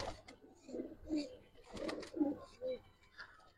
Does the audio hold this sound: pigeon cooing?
yes